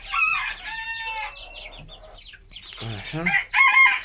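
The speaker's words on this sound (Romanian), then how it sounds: "Acolo avem o bulgărească foarte frumoasă de la mine, scoasă din găinile mele." Bulgarian-breed chickens in a backyard coop cluck loudly and a rooster crows at close range, with someone briefly speaking.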